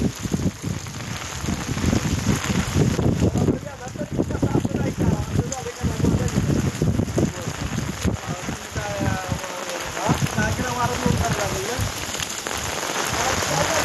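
Heavy monsoon rain pours steadily onto surfaces near Navali village by Mahabaleshwar in Satara, a dense continuous hiss and patter that stays loud throughout, with faint tonal sounds surfacing partway through.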